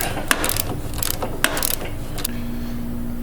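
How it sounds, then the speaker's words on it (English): A needle nose vise grip turning the nut off a sway bar link on a Saturn Ion, heard as close metallic ratcheting clicks and sharp clinks in a few short bursts over a low steady background hum. "So I'll just put a needle nose vice grip on it to be able to turn the nut off."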